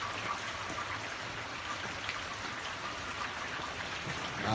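Steady rain falling during a storm in the San Fernando Valley, a continuous even patter and hiss of drops on surfaces, alone and moderately close.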